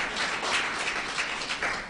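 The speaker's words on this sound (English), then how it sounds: "Clap for him." An audience at a school quiz event clapping for a student, a brief burst of dense applause that stays fairly steady and close for a couple of seconds.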